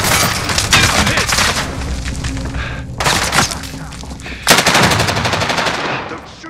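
Call of Duty Warzone gunfire on Rebirth Island: loud, rapid automatic bursts with sharp impacts, broken by brief lulls and renewed volleys.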